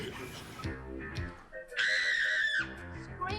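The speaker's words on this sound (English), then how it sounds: "Scream" A high, piercing scream from the horror film Dolly Dearest rings out for under a second amid surrounding film audio and talk, loud and shrill with a sharp cutoff.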